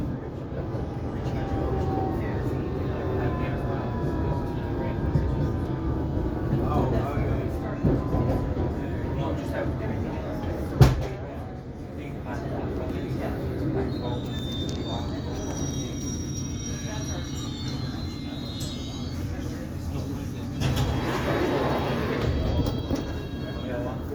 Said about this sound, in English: This is a District Line train to Ealing Broadway.